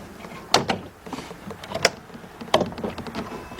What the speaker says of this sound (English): Put the door in there. Make sure it latches.